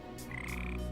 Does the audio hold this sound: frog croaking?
yes